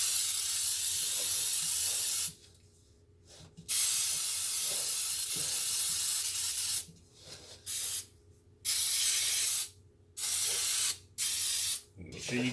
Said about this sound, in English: we're gonna go ahead and spray our pan here